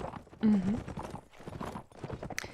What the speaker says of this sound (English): Now we have 2 white horses here for Blauer Delfin and Gaius